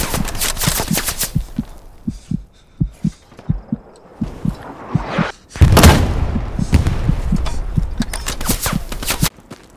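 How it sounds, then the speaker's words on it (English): Artillery fire in the World War II shooter Hell Let Loose, heard as a steady series of deep, evenly spaced booms followed by a louder, close crashing blast and a rumbling aftermath. "they're firing the artillery"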